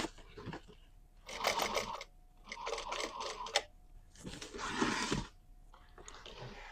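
A home sewing machine back stitching the seams of a fabric bag runs in several short bursts of whirring stitching separated by quiet pauses, fairly close and moderately loud.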